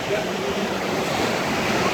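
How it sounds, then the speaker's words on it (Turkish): Sea waves wash and roar in a steady broadband rush, close and continuous, with wind noise mixed in. "denizin dalgası muhteşem"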